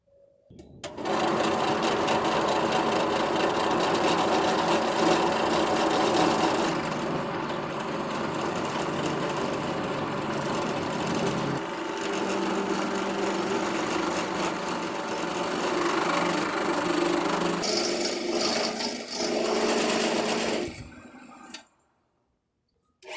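A wood lathe spins a walnut and resin handle blank, giving a steady, loud mechanical whir with a cutting hiss that runs continuously for about twenty seconds before stopping abruptly.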